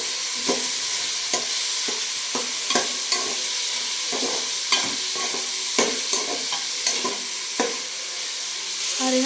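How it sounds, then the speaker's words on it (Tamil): Fried rice in a pan is stirred with a utensil, sharp scraping strokes and clacks repeating irregularly over a steady bed of sizzling oil, close and clear. "இப்போ எல்லாம் நல்லா கிண்டிக்கிட்டோம்."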